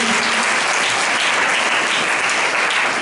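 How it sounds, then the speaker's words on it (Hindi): Loud, dense applause from a church congregation during a Hindi Christian worship service, steady and continuous throughout with no speech over it. "बार फिर से जोरदार ताली बजानी चाहिए"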